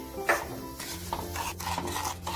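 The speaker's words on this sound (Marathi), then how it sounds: "रवा छान असा हलवायचा आहे सारखा आणि छान भाजू द्यायचा आहे आपल्याला" A spoon scrapes and stirs semolina roasting in a little oil in a pan, a steady close rubbing with soft sizzle beneath and no voices.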